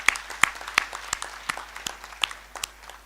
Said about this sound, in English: Let's give her a good clap.